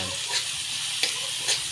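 Fish fillet frying in a pan gives a steady, close sizzle while a utensil stirs it, with soft scraping strokes rising above the hiss.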